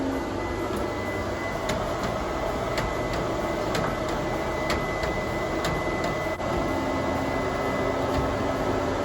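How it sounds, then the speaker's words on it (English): Ricoh Ri-1000 direct-to-garment printer running a single CMYK-only pass, giving a steady mechanical whir with faint periodic clicks as the head travels, heard alone without voices. "now we're going to send it into the printer."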